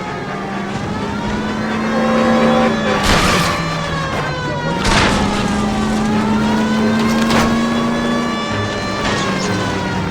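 Car engine revving and straining during a car chase in the video game L.A. Noire, a loud sustained engine note rising and falling through shifts, with brief bursts of noise layered over the drone.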